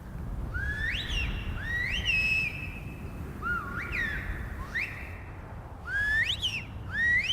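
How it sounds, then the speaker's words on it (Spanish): Whistled Silbo language echoes across mountain valleys, a series of rising and gliding whistled phrases, clear and moderately loud, with pauses between them over a soft, steady wind hiss. "este lenguaje silbado atraviesa los valles y sobrevuela a veces los paisajes azules del Atlántico"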